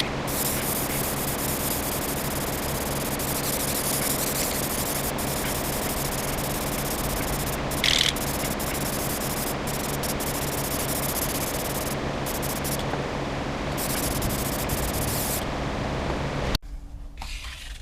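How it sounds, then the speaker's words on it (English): Clear coat hisses from a spray can onto a Mandalorian helmet in a steady, loud, continuous spray that runs almost unbroken before cutting off near the end, leaving a quieter room. "I think we can go ahead and move into our clear coat. So let's go ahead and get that going."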